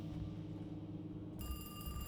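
Telephone in the Alone in the Dark horror video game, a bright electronic ring starting abruptly partway through over a low ambient rumble, fairly faint, with no talk.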